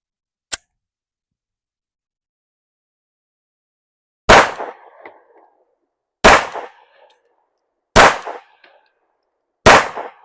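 A PSA Dagger 9mm pistol fires Winchester forged steel case ammunition. One sharp crack comes first, then after a pause four loud, close shots follow at steady intervals of about two seconds, each with a short ringing tail.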